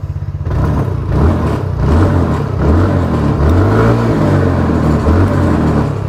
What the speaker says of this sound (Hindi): एक बार स्टार्ट करके साउंड सुनते हैं।